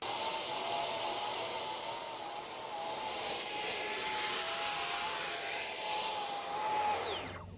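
A 3D-printed radio-controlled Harrier jet model lifts off vertically, its ducted-fan jet giving a loud steady whine and roar with a high tone that wavers slightly, then quickly spins down at the very end.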